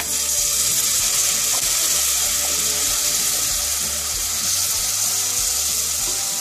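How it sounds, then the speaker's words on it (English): Distilled vinegar pours into prawn pickle sautéing over a low flame, giving a steady, close, watery hiss and gentle sizzle that continues for several seconds without talk. "And now we will add the distilled vinegar."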